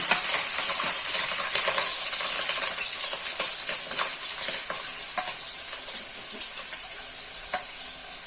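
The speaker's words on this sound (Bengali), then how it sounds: "ওর মধ্যে আমি সিদ্ধ করে রাখা মাটন কিমা দিয়ে দিলাম ওই পেঁয়াজ ভাজা তেলের মধ্যে" Boiled mutton mince dropped into oil with fried onions and cardamom crackles in a continuous close sizzle, with scattered clicks from stirring as the sound slowly eases.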